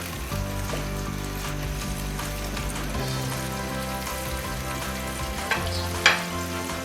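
Ground cumin tempered in hot oil poured over pangas fish cooking in a pan, a steady close sizzle and crackle with a slight shift partway through and a couple of faint clinks near the end.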